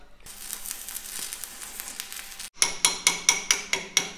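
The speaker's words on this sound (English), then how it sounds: "We're gonna do a little more welding with the nickel 55 rod" Stick welding with a nickel 55 rod crackles and sizzles steadily at close range, then breaks into a series of sharp, evenly spaced metallic hammer strikes, likely chipping slag.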